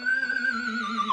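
Electric guitar whammy-bar horse-whinny effect, a sustained harmonic-rich note wavering and dipping in pitch with rapid bar vibrato, loud and close, heard alone without talk.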